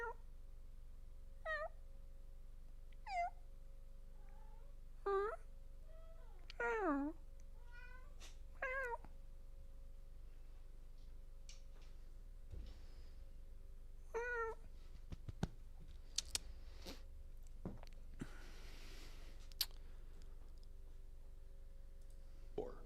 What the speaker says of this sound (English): Everybody can hear my cat meow.